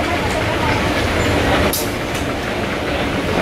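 An airport tram rumbles along with steady, loud broadband noise throughout, and a brief hiss or squeal rises partway through.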